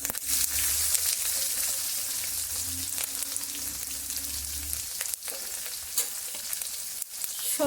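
Crushed garlic and black mustard seeds frying in fish-frying oil, a steady close sizzle and crackle with stirring scrapes, no talk over it.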